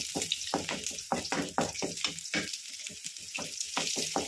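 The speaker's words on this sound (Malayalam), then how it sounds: "ഈ വെളുത്തുള്ളിയുടെ പച്ചച്ചുവ മാറുന്നവരെ നന്നായിട്ട് ഇളക്കി കൊടുക്കണം. നന്നായി വഴറ്റി കൊടുക്കണം." Garlic and curry leaves being stirred and sautéed in oil, a close crackling sizzle broken by rapid rhythmic scraping strokes of a spoon against the pan.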